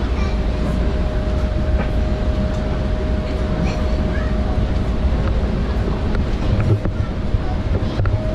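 Riding inside a passenger train gives a loud, steady rolling rumble with a faint constant hum. Occasional small knocks and rattles come through, and a voice is faintly present.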